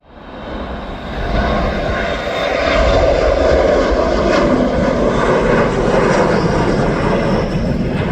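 Airplane taking off at Leeds Bradford Airport, its engines building to a loud, steady roar that holds for several seconds from a moderate distance.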